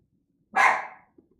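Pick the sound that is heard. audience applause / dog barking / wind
dog barking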